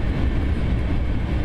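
Train rolling on rails in The Last Train Home video game gives a brief, steady, dense rumble heard on its own.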